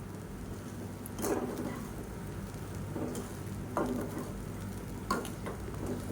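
Leftover idli being stirred and mixed with idli podi in a pan, heard as faint, soft scraping and clinking strokes spaced a couple of seconds apart over a quiet background hiss.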